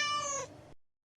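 A cartoon kitten gives a single clear, high meow up close, which fades out into silence.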